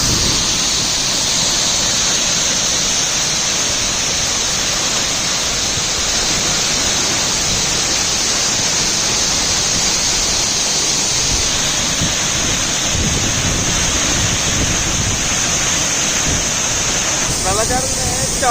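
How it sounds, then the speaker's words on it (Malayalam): Thooval waterfall in Idukki, heard from its base: a loud, dense, unbroken roar of falling water that fills the whole stretch, with a faint hint of a voice near the end. "വെള്ളച്ചാട്ടത്തിന് ഏറ്റവും അടിയിലെത്തിയിട്ടുണ്ട്."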